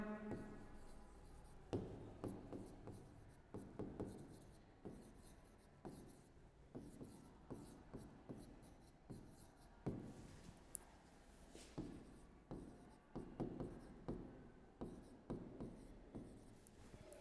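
Pen or pencil writing a taxonomic key on paper, a close, quiet run of scratchy strokes and short taps with brief pauses, while a faint voice talks in the background.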